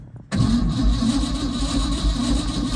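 An old Ford F100 truck's starter cranks the engine after a jumper is applied, a loud steady churning that begins abruptly and continues close by without catching.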